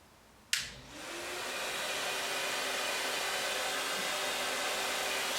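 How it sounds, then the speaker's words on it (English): A click, then a central vacuum system's motor in a garage spins up and settles into a steady, loud whooshing hum that continues without pause. "as soon as I will click it, the vacuum, the central vacuum in the garage will turn it on."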